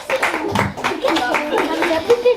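An audience claps for children at the close of a workshop, with continuous applause and voices heard over it.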